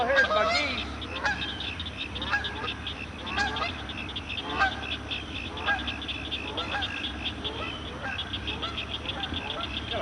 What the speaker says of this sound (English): Got a pair of geese that have taken up residence on this pond